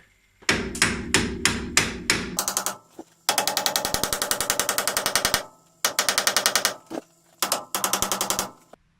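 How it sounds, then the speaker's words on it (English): Loud, close metal-on-metal hammer blows driving an axle back into a Lada Niva front suspension, starting as a handful of heavy spaced strikes, then rapid bursts of quick repeated hits with short pauses between runs. "You might want to just hold them up and then hammer the axle back in."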